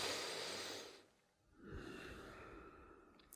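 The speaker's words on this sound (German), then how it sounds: "Tief ein, tief aus. Und beim Ausatmen immer ein bisschen weiter reinzugehen." Slow, deep breaths during a relaxation exercise for a sacroiliac joint blockage: a long airy exhale, a full pause, then a steady drawn-out inhale, close and soft with no talking.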